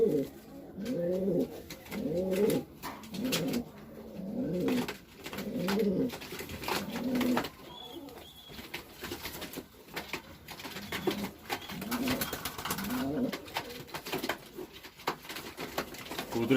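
Racing pigeons coo up close in a repeated rhythmic series of throaty, rolling calls, followed by softer rustling and scattered light tapping sounds.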